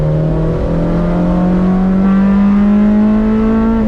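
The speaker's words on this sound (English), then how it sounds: "So much VTEC engagement." A Honda Civic Type R B-series engine revs hard and loud, its pitch climbing steadily as it pulls into VTEC with a sustained rising howl, no voices.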